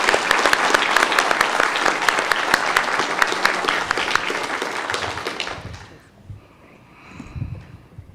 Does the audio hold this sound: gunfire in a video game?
no